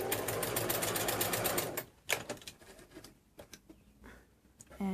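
Sewing machine stitching a quilt binding seam, a steady loud rapid whir for about two seconds, then stopping, followed by softer clicks and handling of fabric and pins.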